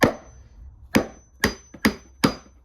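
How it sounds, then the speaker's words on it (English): Hammer strikes knock against a Porsche Cayenne driveline part, five sharp metallic blows spaced roughly half a second apart, close and clear with a faint ringing tone between hits. "we can remove this, which I would assume would just be literally a hammer"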